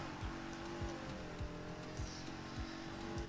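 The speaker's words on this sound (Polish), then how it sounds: "Ale ten dźwięk samochodu mi się mega podoba." BMW M2 engine in the racing game Need for Speed Heat, a steady loud engine drone with repeated shifts and sweeps in pitch, close and continuous with no talk.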